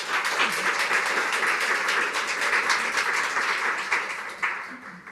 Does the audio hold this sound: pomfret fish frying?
no